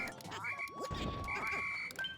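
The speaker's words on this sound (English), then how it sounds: "Let's quickly get the frogs out of the way." Croaking and quacking frog enemies in Pikmin 3 Deluxe, game sound effects with warbling calls and a soft thud, steady and moderately loud, with no talking over them.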